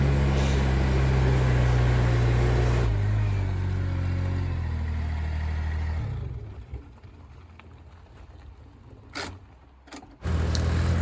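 The diesel engine of an Iron-Rhino compact wheel loader drones loud and low as it climbs a slope, then drops away sharply to a quiet idle with faint clanks before rising again at the end.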